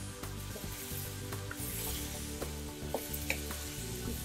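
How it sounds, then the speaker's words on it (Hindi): Chicken with spices frying in a karahi, a soft steady sizzle with scattered stirring scrapes and clinks, fairly quiet, with no voices. "इसमें हम जो है अपना चिकन ऐड कर देंगे और इसको अच्छे से भून लेंगे"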